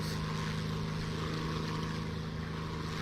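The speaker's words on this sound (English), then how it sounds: "Alright, so this is a bomber." Propeller engines of a bomber plane in War Thunder drone in a constant even hum, moderately quiet and unbroken, with no talk over it.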